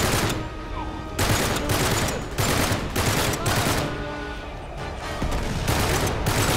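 Rapid automatic gunfire in the Uncharted 3: Drake's Deception video game, a dense crackling fusillade in repeated bursts with short lulls between them, loud and close, no talk.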